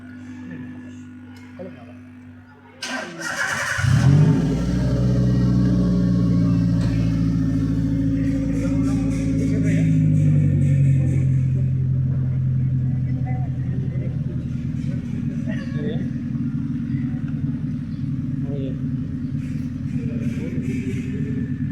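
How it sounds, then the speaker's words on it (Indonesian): An engine cranks and catches, then settles into a steady running rumble with a slight rise and fall, close by, during an emissions test. "Kita hidupkan mesin."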